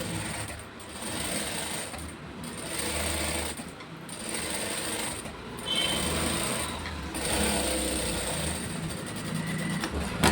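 A sewing machine stitching a one-inch seam on a blouse with lining fabric runs in a steady, close whirring hum, broken by several brief pauses.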